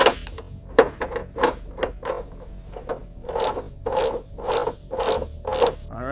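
Ratchet wrench torquing a part during a restoration of a $300 car: a series of sharp, close clicking and rasping strokes in irregular bursts, with no talking.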